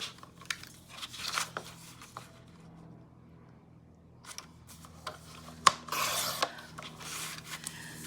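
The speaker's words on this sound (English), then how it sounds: "I'm gonna cut off a 1/2 inch on one side and then the other" Scissors snip and crunch through paper for a Halloween scrapbook page, with soft rubbing and rasping handling noises in short irregular bursts, close and fairly quiet with no talking.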